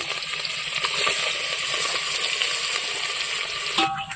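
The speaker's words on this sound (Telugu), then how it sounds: "ప్రజెంట్ వచ్చేసి నూనె కాగింది ఉల్లిగడ్డలు వేసుకుందాం" Onions are dropped into hot oil and deep-fried for chicken biryani, giving a loud, steady, close sizzle and crackle with a faint metallic clink near the end.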